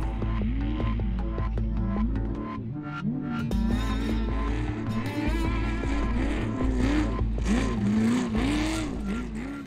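A modified Jeep V8 of about 870 horsepower, with a custom exhaust and Magnaflow mufflers, revs loudly and close again and again, the pitch rising and falling in repeated bursts with no talk.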